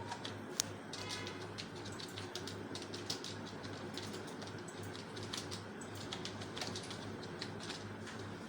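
Typing on a computer keyboard, a steady stream of light, close key clicks in an uneven rhythm with a low hum underneath.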